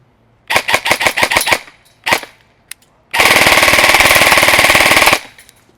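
An EMG Sharps Bros airsoft AEG fires a quick string of separate semi-auto shots, pauses for two more single pops, then lets go a steady full-auto burst of about two seconds, loud and close with no talking.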